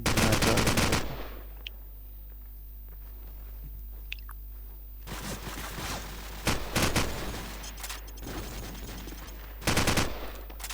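Gunfire in a competitive video game match, loud bursts of rapid automatic fire, with a quieter stretch of scattered single shots between them.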